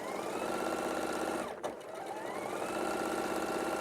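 Sewing machine stitching fabric in a rapid, even mechanical chatter, briefly pausing and then resuming at the same steady pace, close and moderately quiet.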